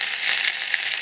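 Chopped garlic and ginger sizzle steadily in hot oil in a home kitchen pan, a dense, loud, continuous frying hiss with no break throughout.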